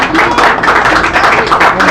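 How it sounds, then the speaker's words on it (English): An audience at an award ceremony applauds in loud, dense, continuous clapping close by, with no pauses. "Now could you please keep your hands together loudly."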